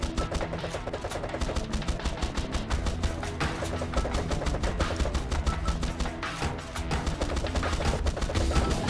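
Dense, continuous rapid-fire gunfire in the rogue-like mech shooter game Swarm Grinder, loud unbroken staccato bursts throughout with no pause or talk.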